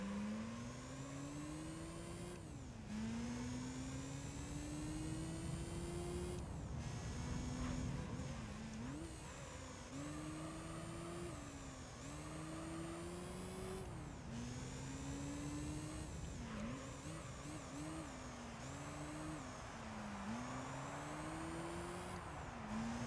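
Honda Type R race cars in Gran Turismo 3 whine and climb in pitch again and again through quick gear shifts, a continuous loud buzzing roar with no talking.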